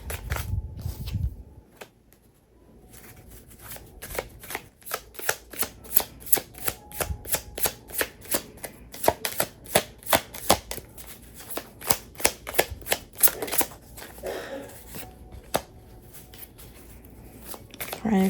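Tarot cards are shuffled close by in a long, steady run of crisp riffling flicks, rhythmic and quick, after a brief quiet start, with low room noise beneath.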